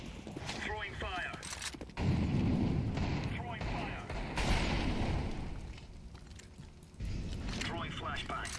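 An incendiary grenade catches in a first-person shooter game, a loud roaring whoosh of fire that swells suddenly and holds for a few seconds amid other game noise, with a player talking over it.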